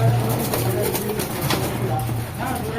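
Male pigeons in a loft, including Teddy and Kamagar flying breeds, coo in low repeated calls that run steadily through the whole stretch, close by, with other birds and a faint voice in the background.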